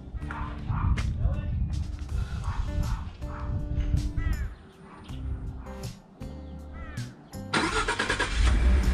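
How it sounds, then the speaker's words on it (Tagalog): A car engine cranks and catches after a remote-starter command, running up near the microphone while a dog barks and yips repeatedly and voices talk over the scene. "So, testing natin yung remote starter ng ating sasakyan."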